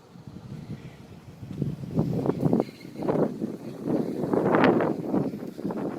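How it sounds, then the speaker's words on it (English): Wind gusting outdoors on a walk near Clarkston city hall, a steady rushing buffet that swells and peaks toward the end, with rumbling microphone noise. "And of course now the wind's picking up"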